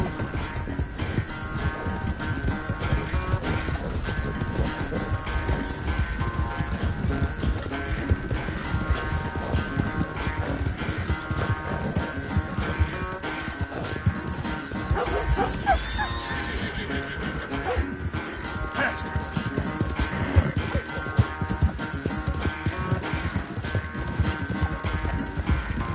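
Horses gallop hard in a race in Red Dead Redemption 2, steady rapid hoofbeats with whinnies and neighs over a dense, loud mix, continuing throughout.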